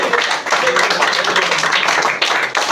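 A church congregation clapping their hands together in worship, dense continuous applause-like claps close and loud, with voices mixed in.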